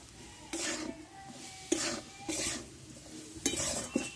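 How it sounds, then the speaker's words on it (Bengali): A spatula stirs spice paste and grated coconut in a pan for pumpkin chakka, producing four or five distinct scraping strokes over a quiet background, close by and moderately soft. "একসঙ্গে ভালোভাবে কষে নেব।"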